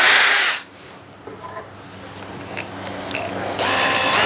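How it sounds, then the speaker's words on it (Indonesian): A power drill whirs loudly into wood in two short bursts, one at the start and one at the end, with a quiet gap of faint handling clicks between them. "mungkin kalau kalian mau coba buat ngebor di kayu nggak ada masalah juga"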